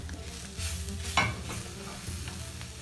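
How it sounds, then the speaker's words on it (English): Paneer samosa filling with crumbled paneer and chopped spring onion leaves being stirred in a pan, a steady scraping and soft sizzle with one sharper knock midway, close and alone. "Mix till everything is well combined and the samosa filling is ready."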